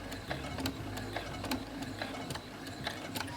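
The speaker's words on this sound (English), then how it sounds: "I'm gonna sew directly into the corner." A sewing machine stitches quilt binding into a corner with a close, steady mechanical ticking that keeps an even rhythm throughout.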